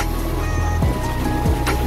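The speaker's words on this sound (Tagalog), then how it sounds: "Lakas ng alon o. Naalog yung barko." Strong sea waves wash and churn against a large ship seen from its pilot house, a steady heavy rumble and rush of water with a few swelling surges, loud and close throughout.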